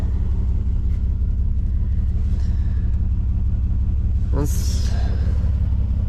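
An old Mercedes-Benz car engine idles steadily with a deep, constant low rumble throughout, close by, and one brief rising rev or scrape in the middle.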